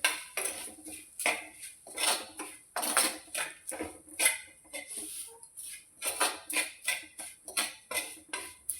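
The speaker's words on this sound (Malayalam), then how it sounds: "നന്നായി ഇളക്കി യോജിപ്പിക്കാം" Chili, coriander and turmeric powders are stirred together in a cooking pan for a sardine curry. A metal spoon makes rhythmic scraping and clinking strokes against the pan, close and steady, with no talking.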